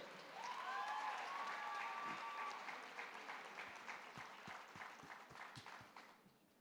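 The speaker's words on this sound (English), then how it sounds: "Let's please clap for her." A graduation ceremony audience applauds, sustained clapping swelling then thinning into scattered individual claps, with a voice briefly over the start.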